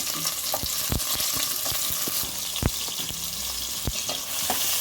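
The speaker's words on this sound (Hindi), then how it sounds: "अभी ये कांदा, इसको गोल्डन फ्राई करना है" Chopped onion fries in hot oil for prawn biryani, a constant close sizzle broken by sharp spoon taps and scrapes against the pan at irregular intervals.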